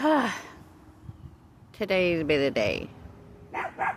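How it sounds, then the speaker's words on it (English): Dogs bark in the background in a few short bursts, several sharp woofs in quick succession and then another pair, while a person speaks close by. "You can hear my dogs in the background."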